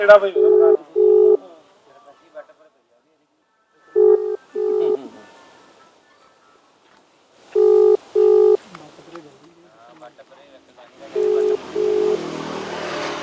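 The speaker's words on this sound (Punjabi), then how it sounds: "ਉਹਨਾਂ ਨੇ ਫੋਨ ਨਹੀਂ ਚੁੱਕਿਆ" A phone's ringback tone repeats in paired beeps four times with pauses between, unanswered, while a voice murmurs faintly and a vehicle hums near the end.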